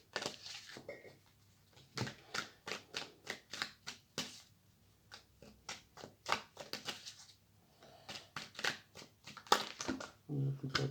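Tarot cards are shuffled by hand in close, quiet bursts of papery riffling and slapping, with irregular pauses between the rounds of shuffling.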